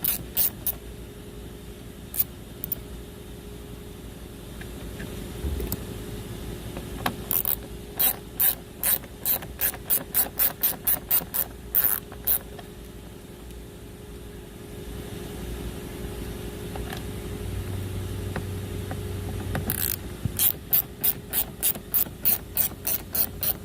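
Ratcheting driver backing out T25 Torx screws from a Dodge Charger or Chrysler 300 front door panel, quick bursts of dense clicking repeated several times with quieter pauses between, close and alone.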